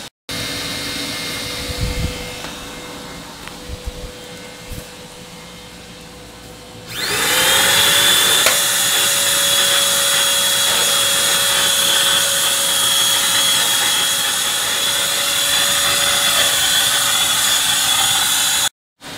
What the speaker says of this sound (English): I'm going to see if I can run that small vacuum cleaner for a few minutes